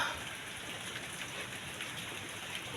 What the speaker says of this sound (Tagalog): biglang umulan ngayon dito sa